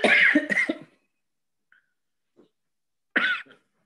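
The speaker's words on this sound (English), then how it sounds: "You hate to cough because people look at you like, oh my goodness." A woman coughs during an evening online meeting, with a short burst of close, dry coughs at the start, a quiet pause and one more cough near the end.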